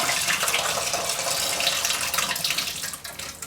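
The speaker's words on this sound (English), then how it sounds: "If you're going to drain out the water through the fill, you're going to have to loosen up the bottom nut on your fill valve" Water rushes steadily out of a toilet tank through a loosened fill valve, a loud continuous hiss and splash that tapers slightly near the end, with no voices.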